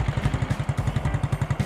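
Motorcycle fitted with a Yoshimura full exhaust system and silencer insert, revving in steady low, deep pulses with a throbbing burble, close and fairly loud, with no voices.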